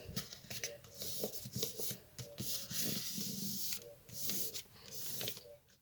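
Paper creased and folded by hand while making a small paper handbag, giving close, crisp rustling and rubbing sounds in irregular bursts with no talking.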